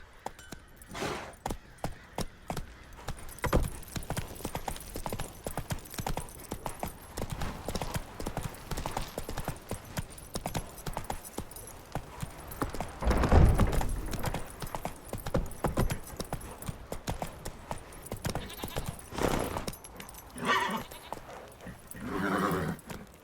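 Roach the horse gallops in The Witcher 3, a rapid, continuous drumming of hooves running close for the whole stretch, with a few brief voice calls and louder thuds partway through.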